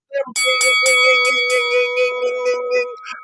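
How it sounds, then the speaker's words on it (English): A notification bell sound effect plays at the end of a morning show episode: a bright, ringing chime struck several times in quick succession, then sustained and fading, heard clearly on its own. "hit that notification bell, something like this"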